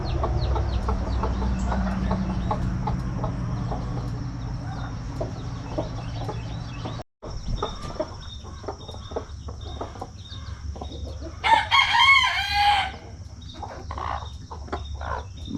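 Backyard flock of chickens with newly hatched chicks clucking and chirping in a steady, close chatter, with a brief louder burst of calling partway through; no distinct rooster crow stands out.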